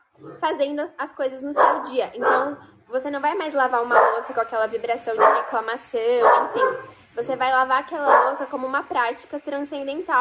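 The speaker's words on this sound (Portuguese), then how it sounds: "tem um cachorro latindo aqui" A dog barks in the background, faint and intermittent, under nearly continuous talking.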